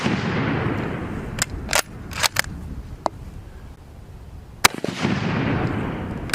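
Gunshots at an outdoor shooting range aimed at a target, several sharp loud cracks spaced irregularly, a quick pair then single shots, over a low rumbling background of wind.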